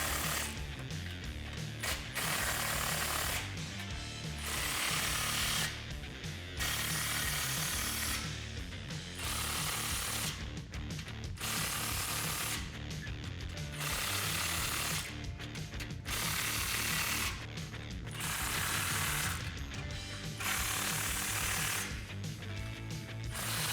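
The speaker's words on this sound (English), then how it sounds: "work our way from front to back and tighten down all of our saddle clamps." A ratchet with a 9/16 deep socket tightens exhaust saddle clamps on a 2004-2008 Ford F150 5.4L MBRP dual exhaust install: repeated loud close bursts of rapid clicking, each a couple of seconds long, separated by short pauses.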